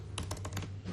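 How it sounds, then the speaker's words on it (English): Typing on a phone or keyboard: a quick burst of about six or seven light, close key clicks in an uneven rhythm, faint against a low hum. "I'm supposed to be typing this."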